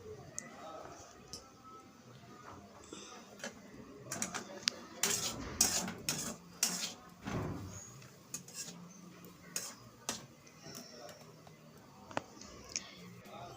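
Grated coconut roasted in a pan for coconut laddu, stirred with a utensil that clicks and scrapes against the metal in uneven bursts, busiest in the middle, with quiet background noise.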